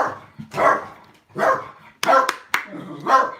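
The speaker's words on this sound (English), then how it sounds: "it's a dog." A pet dog barks indoors, several loud, close woofs spaced irregularly, with a sharper yip among them and no talk over them.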